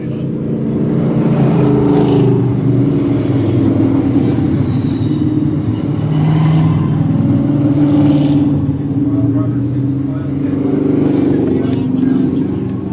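Late model race cars circle a speedway slowly under caution, their engines a loud steady rumble mixed with crowd noise and a commentator's voice.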